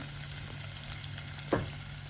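Vegetables for sambar, including moringa, pumpkin, carrot and eggplant, fry with a steady broadband sizzle in a pan. One sharper clatter of stirring stands out near the end, and no one talks.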